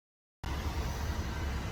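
A van heater running on a cold morning, cutting in abruptly as a steady, even whoosh of fan and airflow with a low rumble, close by and alone.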